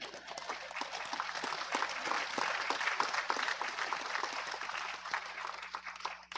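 Scattered audience clapping for the president at a national Toshaos council conference in Guyana, individual claps audible in an irregular, moderately quiet patter with a steady hum beneath.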